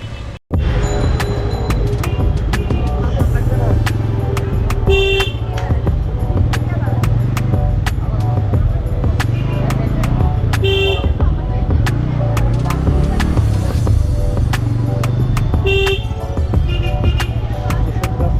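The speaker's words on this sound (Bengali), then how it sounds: "এখানে এখন বিজয় সরণি জ্যামে পড়ে গেলাম আবার" Dense traffic jam at Bijoy Sarani in Dhaka, with a constant rumble of idling vehicles and repeated car and bus horn toots, some short and some held, sounding both near and farther off.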